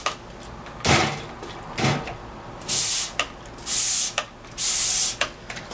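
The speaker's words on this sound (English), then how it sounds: "I've got some briny saltwater solution that I've put inside of a 409 bottle, and I'm just going to spray these." Salt water solution spritzed from a 409 spray bottle, several short hissing squirts in sequence, each a brief burst of spray with small handling clicks between them, close and fairly loud, no talking.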